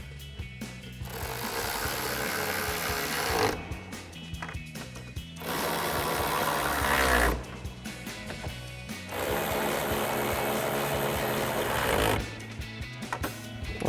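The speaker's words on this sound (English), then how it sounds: "grab our 11mm socket on our ratchet again and tighten these down" Ratchet with an 11mm socket tightening the tail light nuts on a 2010-2012 Mustang, giving several bursts of rapid ratcheting clicks separated by short pauses, close and fairly loud.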